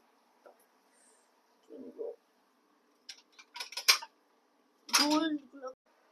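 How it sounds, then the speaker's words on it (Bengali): Eggs are cracked open in a home kitchen: a few quiet knocks, then clustered sharp taps and crackles of shell, with a short burst of voice near the end. "এই যে ডিম নিয়ে আসলাম, আগে ফাটিয়ে দেখবো যে নষ্ট আছে কিনা"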